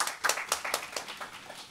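Audience clapping at an ecological legal personhood climate conference after a congratulatory speech, a short burst of fairly distinct claps with a handful of sharp peaks, tapering off within two seconds.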